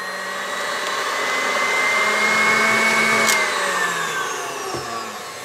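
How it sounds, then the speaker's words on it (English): An electric mixer running on high beats red velvet pound cake batter in a bowl, a steady loud motor whine that holds throughout and dips slightly in pitch near the end, with no talking. "Okay, turn this thing to high. Then gradually lift out the mixer."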